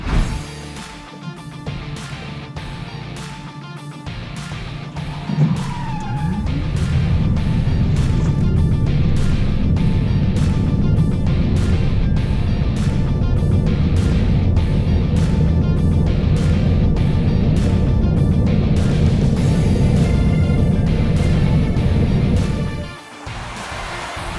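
A petrol automatic Mahindra Thar and an electric Tata Nexon EV launch and roar down a drag strip together, engines loud and sustained for about twenty seconds before cutting off.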